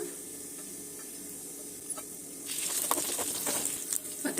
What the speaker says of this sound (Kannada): ಸ್ವಲ್ಪ ತೆಂಗಿನಕಾಯಿ ಕರ್ಬೇವಿನ ಸೊಪ್ಪು ಮತ್ತು ಒಂದು ಅರ್ಧ ಸ್ಪೂನ್ ಜೀರಿಗೆ ಇವಿಷ್ಟನ್ನು ಹಾಕಿ ಫ್ರೈ ಮಾಡ್ಕೊಂಬಿಡೋಣ